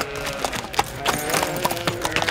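Horse hooves clip-clop on a hard surface in a steady, irregular rhythm, close and fairly loud, with no talk over them.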